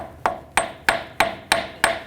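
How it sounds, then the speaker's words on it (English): Six evenly spaced, ringing metallic hammer taps on a rear wheel bearing of a 2006-2010 BMW 550i strike at a steady rhythm, close and loud, with no talking. "I'm just going to take a hammer,"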